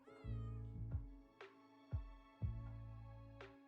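A kitten meows repeatedly, about four drawn-out, tonal cries with sharp onsets, heard close but quietly and alone, without speech.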